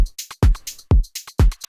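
Punchy one-shot drum hits from Rocket Powered Sound's Feel Again sample bundle: a short groove of deep kicks, snappy hits and bright ticks, loud and dry with nothing else playing.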